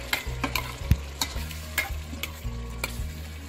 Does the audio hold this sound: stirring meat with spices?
yes